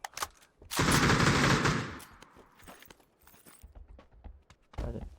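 Gunfire in a first-person shooter video game, a loud sustained burst of automatic shots lasting about a second, followed by quieter scattered footsteps and small clicks, with another short burst at the end.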